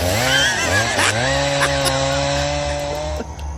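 A chainsaw runs loud and close, its engine pitch dipping and rising as it revs, a continuous droning whine.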